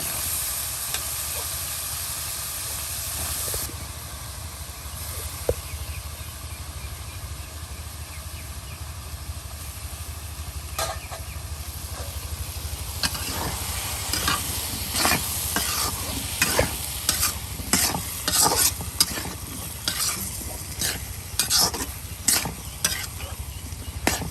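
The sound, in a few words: gourd pieces added to hot pan and stirred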